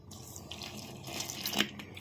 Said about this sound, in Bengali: অল্প অল্প করে গরম জল দিয়ে মেখে নিতে হবে